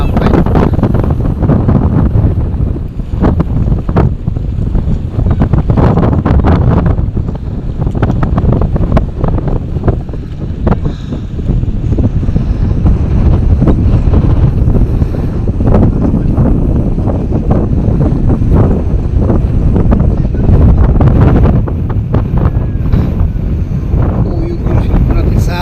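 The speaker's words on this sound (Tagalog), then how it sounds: "Grabe kalakas ng hangin dito sa pantalan" Loud, gusting wind buffets the microphone continuously in a roaring rumble at a harbor, with faint water and boat sounds underneath and occasional voices.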